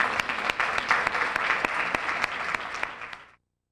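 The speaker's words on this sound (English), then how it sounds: "Let's give both of our speakers another round of applause," Audience at a careers-in-the-media panel applauding the speakers, a brisk burst of many hands clapping nearby with sharp individual claps standing out, tapering slightly before cutting off abruptly.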